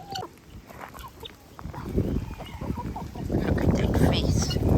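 Cockatoos squabbling with harsh, clucking squawks and rasping calls that build from sparse bursts into a dense, louder racket toward the end, heard close by.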